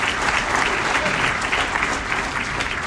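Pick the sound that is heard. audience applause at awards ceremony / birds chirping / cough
audience applause at awards ceremony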